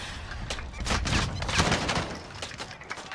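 Sustained gunfire in the video game Call of Duty Warzone, with repeated bursts of shots blending into a dense, continuous barrage at moderate distance across a few seconds.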